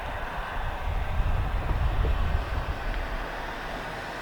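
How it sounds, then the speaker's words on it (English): A CSX mixed freight train passes on the Greenwich Subdivision on a hot, windy early-spring day, a steady loud rumble of rolling wagons and wind noise with no clear horn. "Here comes a train."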